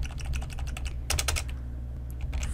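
Rapid typing on a computer keyboard while writing Excel VBA code, close and clear with a steady patter of keystrokes and a denser burst of clicks midway, no voices.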